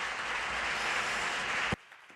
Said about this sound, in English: Let's give them an extra round of applause.